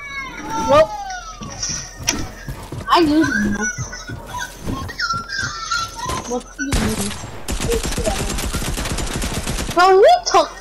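Rapid SMG gunfire in a video game, a dense burst of fast shots near the end of a stretch full of excited talking, squeals and other game effects.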